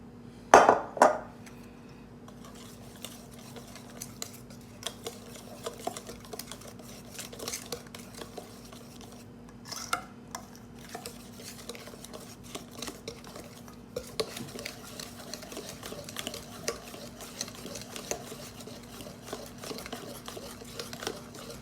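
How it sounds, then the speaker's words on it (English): Flour is stirred into banana bread batter with quiet, continuous scraping and soft clinks of a utensil against a bowl, close but faint, with an occasional sharper knock and a steady background hum. "Now we're going to add our flour into our mixture, and I'm just gonna gradually add some, mix that in."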